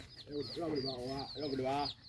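Chickens cluck in a rural Thai farm setting, a run of soft, repeated clucks and murmurs close by at low volume.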